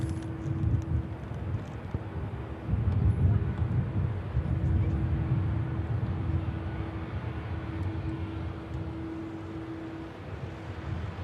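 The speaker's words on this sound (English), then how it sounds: "The Pegasus Neo touching down." A Pegasus Airbus A320neo touches down, its engines a low, steady rumble with a faint sustained hum, moderately distant and even.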